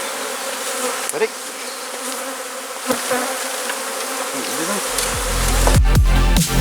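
A steady hum of honeybees fills the air as they are shaken into a hive during a cutout inspection, with soft knocks and thumps from the box toward the end and a voice speaking briefly.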